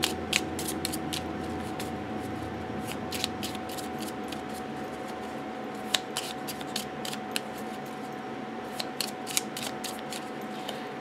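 A small pocket oracle card deck is side shuffled, giving rapid bursts of crisp, close card slips and flutters in repeated clusters, with no talk.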